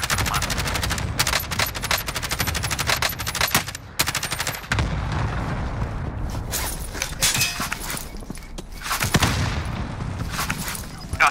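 Rapid bursts of automatic gunfire in a team shooter video game, sustained machine-gun volleys and scattered shots crackling nearly nonstop at close range, with brief gaps between strings of fire.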